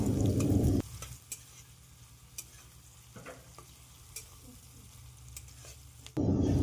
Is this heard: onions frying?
yes